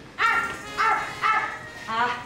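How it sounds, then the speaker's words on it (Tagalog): A dog barks four times in a steady, evenly spaced series, close and fairly loud, with no other sounds alongside. "Yung aso. Ay, aso lang pala eh."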